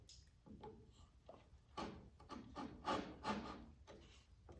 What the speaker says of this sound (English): I'm just gonna take my saw and just try to cut a line in there